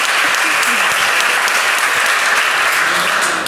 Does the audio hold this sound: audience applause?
yes